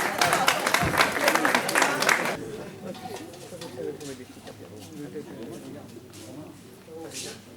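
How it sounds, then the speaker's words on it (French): Applause rings out at an FSGT cycling club awards evening for the year's winners: about two seconds of loud, dense clapping, then a calmer crowd murmur with faint cooing in the background. "Voilà, donc vous pouvez les applaudir très très fort."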